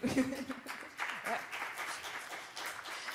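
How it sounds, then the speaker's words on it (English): Scattered applause from a small crowd, soft and somewhat distant, continuing for a few seconds. "You got a clap there."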